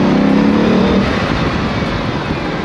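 A Bugatti with its roof open accelerating, a loud, close engine roar that holds steady and eases slightly toward the end, with no speech over it.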